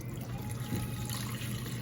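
Homemade giblet broth poured into an oyster stuffing mix, a soft continuous liquid trickle and splash, close but quiet, with no talking.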